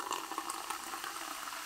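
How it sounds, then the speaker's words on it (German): Water poured steadily into a glass over raspberry drink syrup from a dispenser, a continuous bubbling, splashing gush throughout, close and alone. "Jetzt gießen wir das mit Wasser ordentlich auf."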